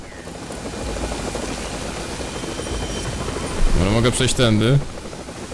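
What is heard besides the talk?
helicopter in video game Splinter Cell: Double Agent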